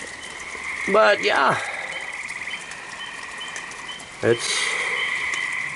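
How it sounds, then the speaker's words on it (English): Tree frogs keep up a steady, pulsing chorus with spring peepers trilling farther off, lasting throughout, while someone speaks briefly twice over it. "Those are tree frogs, by the way. The ones you hear. And then the peepers off in the back."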